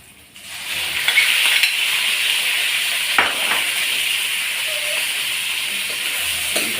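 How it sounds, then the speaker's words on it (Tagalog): Pork fries in a pan with garlic, ginger and onion, a loud steady sizzling hiss that flares up after a quiet start, with an occasional scrape or clink from stirring. "Gigisa muna natin siya ron"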